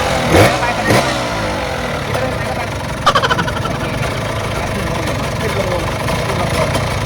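A motorbike runs gently in second gear, with a steady mid-pitched engine drone throughout, a couple of louder revving surges early on and a brief rattle partway through.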